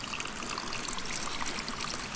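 Spring water flowing outdoors near a garden, a steady broadband trickling and babbling stream sound, close and continuous throughout with no talking.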